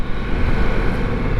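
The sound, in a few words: Ducati Multistrada V4S engine roar as RPM lowers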